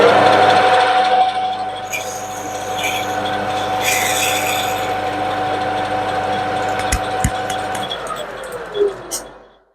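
A lathe threads a part for a steam locomotive's snifting valves, making a steady mechanical hum with faint clinks that winds down near the end.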